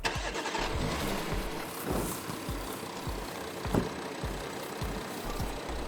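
Porsche Macan with a 3.0 V6 diesel engine starting up, the crank catching into a steady, fairly loud idle rumble with a few low thumps as it settles.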